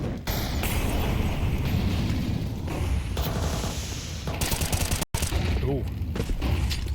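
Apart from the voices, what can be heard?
grenade exploding in the video game Counter-Strike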